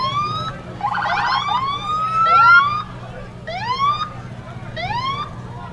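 Police car siren at a Memorial Day parade in Ironton, Lawrence County, sounding loud and close in a series of rising whoops and yelps, with a steady engine rumble beneath.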